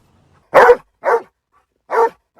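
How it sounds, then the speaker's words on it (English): A search dog gives a focused bark alert after finding a person hidden in debris: three loud, close barks spaced about half a second to a second apart, with no talking. "they're trained to do what's called a focused bark alert, where they will sit here and bark, bark, bark, bark, bark"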